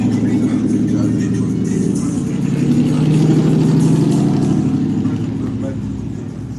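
A truck engine drones past in a steady, low mid-pitched rumble that swells slightly and then eases. Voices murmur underneath.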